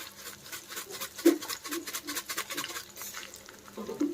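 Green chillies and cumin seeds frying in a pan, a faint steady sizzle with soft stirring scrapes and a few light clicks of the spoon, quiet and close with no talking.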